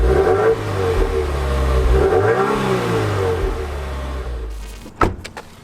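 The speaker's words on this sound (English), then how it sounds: "Give it a little juice." A new Subaru WRX accelerates hard with its engine revving, a loud rising and falling engine tone heard from close by. The tone ends in a few sharp knocks.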